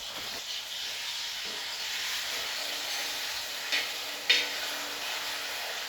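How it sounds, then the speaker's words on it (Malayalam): Tuna pieces deep frying in hot sesame oil for a spicy Kerala fish pickle, a steady soft hiss of bubbling oil throughout, with a couple of brief sharper crackles near the end, close and moderately quiet. "ഇളക്കി കൊടുക്കുമ്പോൾ നോക്കണം, ഉടഞ്ഞു പോകാതെ ഇളക്കി ഡീപ് ഫ്രൈ പോലെ ഇടാം."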